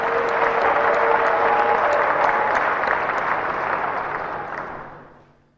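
An audience at a Nigerian APC political speech breaks into sustained applause, a dense wash of clapping that holds steady and then fades out over a few seconds.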